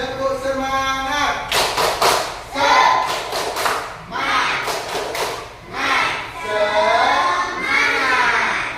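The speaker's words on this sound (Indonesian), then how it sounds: "Semuanya tepuk semangat." A class of schoolchildren does a rhythmic clapping cheer, bursts of claps and thumps in a patterned beat, with children's voices chanting and shouting between the claps, loud and close in the room.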